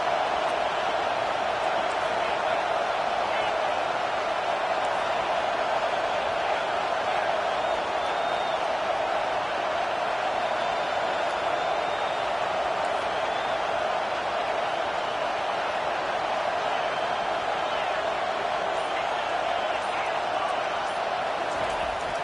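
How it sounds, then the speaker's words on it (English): Stadium crowd at a football game roars for the defense on third down, a dense, steady wall of cheering noise that stays loud and unbroken throughout. "Decibels rising as the crowd gets behind this defense on 3rd down."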